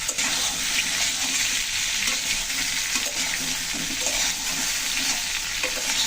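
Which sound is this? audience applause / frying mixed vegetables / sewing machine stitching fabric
frying mixed vegetables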